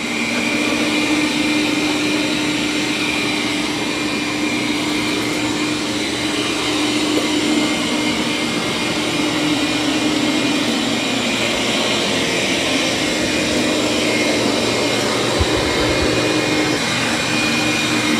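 A robot vacuum and mop unit works across a floor with a continuous, loud, close motor whir and brushing hiss, droning steadily without pauses or voices.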